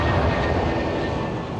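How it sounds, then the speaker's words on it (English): Boeing airliner lifting off a runway at Bristol at about 140 mph, a steady broadband engine roar that holds loud and constant throughout, with no voices over it. "At around 140 miles an hour, the Boeing lifts clear of the runway."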